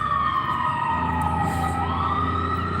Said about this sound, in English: so we'll hear sirens on and off all day, which kind of stinks